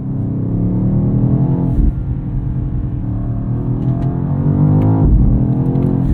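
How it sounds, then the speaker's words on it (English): A 2024 BMW XM Label, a 738 hp hybrid SUV, rumbles with deep, steady exhaust burble as the revs fall, a thick low growl with brief swells, close and loud with no talking. "These nice burbles from the exhaust on the down rev."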